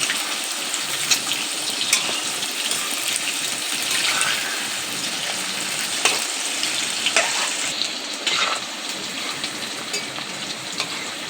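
Chicken pieces for chilli chicken frying in a hot pan, a steady loud crackling sizzle with occasional sharper pops and scrapes as pieces are turned, continuous throughout with no talking.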